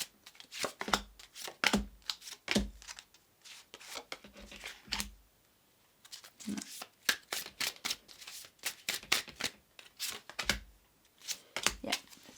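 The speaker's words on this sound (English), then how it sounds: "I want to shuffle a little bit more." Tarot cards being shuffled during a pick-a-card reading, a run of quick papery riffles and soft slaps in irregular bursts, close and fairly quiet with short pauses between.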